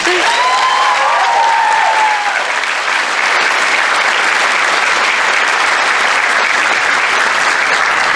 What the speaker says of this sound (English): these students definitely deserve another round of applause